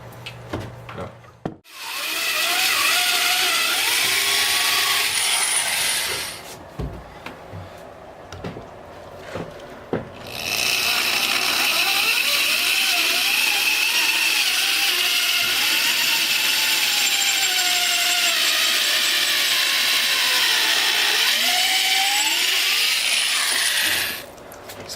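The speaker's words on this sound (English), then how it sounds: "Sounds like I need a more powerful drill." A power drill bores slowly through a countertop in long, loud grinding runs with a harsh, shaking rasp. Two sustained stretches are split by a brief pause with scattered knocks, and the drilling stops near the end.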